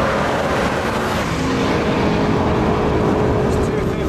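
An Audi R8 accelerates in top gear at around 200 km/h on the Fuji Speedway circuit, a steady loud engine drone inside the car with someone talking over it.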